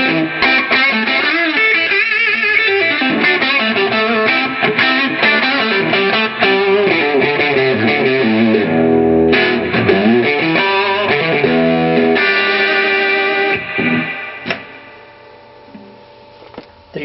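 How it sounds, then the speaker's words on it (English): A distorted electric guitar with a bridge humbucker plays chords and melodic lines through a Session Sessionette 75 amp, loud and steady, then fades to quieter sustained notes near the end. "Using a neck pickup with a bridge humbucker, it's going to sound like this."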